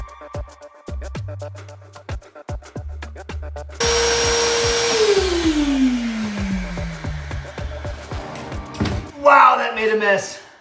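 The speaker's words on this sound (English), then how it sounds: "I'm taking my planer, and I have it literally down all the way to 0. And all I'm doing is just running it across the floor" Scattered clicks and taps lead into an electric hand planer, set to zero depth, skimming across a floor. It gives a loud, continuous whirring roar whose tone sinks steadily, followed by a brief burst of rougher noise near the end.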